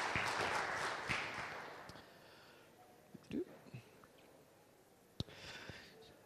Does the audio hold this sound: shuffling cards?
no